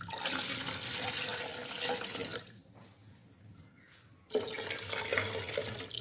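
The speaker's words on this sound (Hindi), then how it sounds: "अब हम इसे थोड़ी थोड़ी कर कर यखनी ऐड करेंगे।" Yakhni stock poured into a pan of mutton pulao, a steady rushing pour that stops briefly for a quieter gap with faint drips, then resumes just as strongly, close-up with no talking.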